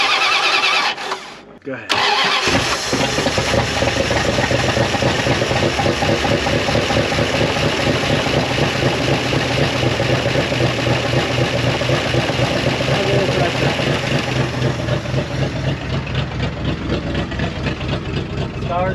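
An old Dodge Power Wagon, abandoned for 41 years, cranks and fires up, then settles into a loud, rough, close idle with a rapid uneven chugging exhaust, while a person speaks briefly over it.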